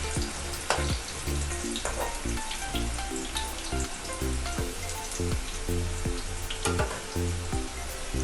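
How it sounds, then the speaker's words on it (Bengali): Bitter gourd sizzles steadily in hot oil in a pan while cooking for a coconut shukto, with occasional stirring clinks and crackles over the continuous frying hiss, close up and with no talking. "দেখুন উচ্ছেটা একটু লাল হয়ে ভাজা হোক।"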